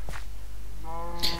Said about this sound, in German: Das sind die Kühe.